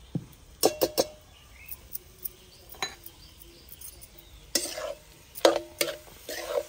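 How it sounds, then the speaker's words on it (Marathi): Whisked yogurt poured over cooked raw papaya vegetable and stirred in, with a series of sharp spoon-on-pan scrapes and clinks in uneven bursts, close and fairly clear. "हे दही फेटून घेतलेलं आहे चांगलं, आपण आता ते भाजीमध्ये टाकून घेणार आहे।"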